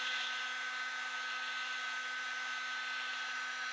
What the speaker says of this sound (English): the heat gun, when it's cold, will take some time to actually get up to the temperature you want